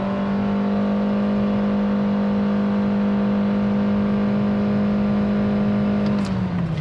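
A 2023 Nissan Versa SR engine straining through a 0-60 acceleration run, a loud steady droning whine held at an even pitch that drops near the end as the car eases off.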